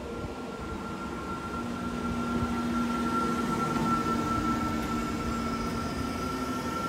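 A train rumbles steadily at Delft Campus station, a continuous broad rush with a faint sustained tonal whine running through it, fairly distant and even in level with no talk over it.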